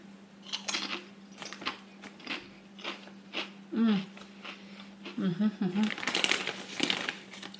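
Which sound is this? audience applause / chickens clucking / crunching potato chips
crunching potato chips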